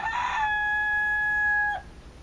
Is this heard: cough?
no